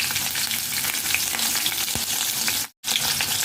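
Green chillies frying in hot oil for carrot rice with spices, giving a steady close sizzle and crackle with stirring, broken by a brief silent gap.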